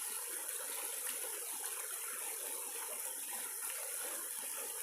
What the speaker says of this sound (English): she loves the creek sounds.